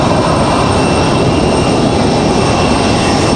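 Delta jet airliner taxiing toward the runway end at Raleigh-Durham International Airport, its engines a loud, steady roaring whine that holds constant, heard alone without voices.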